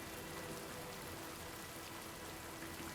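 Steady, dense rain in the video game No Rest for the Wicked, hissing evenly throughout, a continuous wash of drops with no breaks and no voices.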